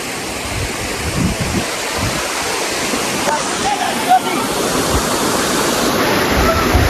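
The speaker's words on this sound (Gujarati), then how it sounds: "તમે જોઈ શકો છો મિત્રો, આ પાણી પડેલું છે" A waterfall roars with loud, steady broadband rush throughout, a continuous wash of falling water with no pauses, while faint voices are briefly audible beneath it.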